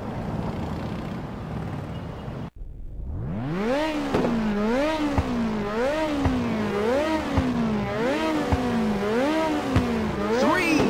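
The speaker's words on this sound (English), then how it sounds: "Now start your engines and get ready." Race car engines in the PSP game Ridge Racer rev up at the start line after a brief cut, climbing and falling in repeated loud, rhythmic revving swells with a rising whine, close and continuous, with a voice heard over them.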